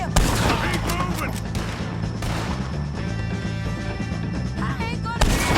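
Gunfire during a Red Dead Redemption 2 shootout, loud rapid volleys of shots with sharp cracks at the start and end, over constant battle noise with voices shouting.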